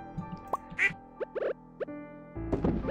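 Ducks quack in the farming video game Stardew Valley, a handful of short, faint game quacks scattered across a few seconds alongside soft clicks and light background game sounds.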